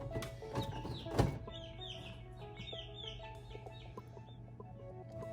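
Three newly hatched chicken chicks give soft, high cheeps in quick, repeated bursts over a faint steady hum, close but quiet.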